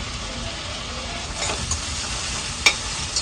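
Onions and mixed vegetables fry in a pan with a steady broadband sizzle, broken by brief stirring scrapes and one sharp utensil click near the end; no talking.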